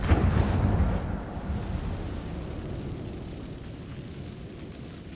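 The Incendio fire spell in Hogwarts Legacy, cast in a cave, lets out a deep rumbling whoosh that starts loud and then fades into a long, low roar with no voices over it.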